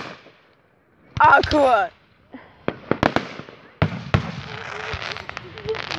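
Fireworks burst during a firework show, with several sharp booms and crackles near and far, one whistling rise, and voices reacting between the blasts.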